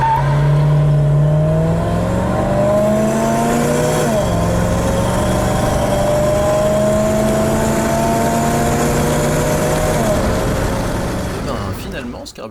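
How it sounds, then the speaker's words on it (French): A 1977 Chevrolet Caprice V8 with a twin-barrel carburetor revs up under acceleration, its engine note climbing through several rising sweeps with shifts around four and ten seconds, loud and close before easing off at the end. "on peut enfin vérifier la bonne santé de la mécanique avec une accélération que je n'imagine pas très impressionnante"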